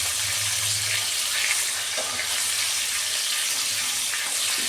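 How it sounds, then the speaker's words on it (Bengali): Vegetables with cabbage frying in a pan for a vegetarian dish, a steady, close hiss and sizzle that runs unbroken throughout. "সবজিগুলো 2 মিনিট আমি ভেজে নেব।"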